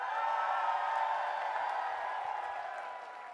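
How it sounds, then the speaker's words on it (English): Audience applause for actor Tiger Shroff at a coaching event, a steady wash of clapping and crowd noise that holds throughout and fades slightly toward the end, with no voices on top. "please give Tiger a huge round of applause"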